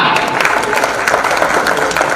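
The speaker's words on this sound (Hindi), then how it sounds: "तालियां" An audience at a kirtan programme held at a mandi claps in a loud, steady wash of applause that carries straight through without a break.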